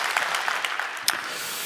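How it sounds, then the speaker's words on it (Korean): Congregation in a Korean church applauding together, a steady dense wash of many hands clapping with a few sharper claps standing out, sustained and even throughout without speech. "우리 주님께 감사의 영광에 박수를 올려드립니다."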